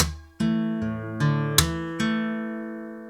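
A fingerstyle guitar plays a bar of a song as six separate plucked notes and chords about half a second apart, close and clear, with the last one left ringing and fading out.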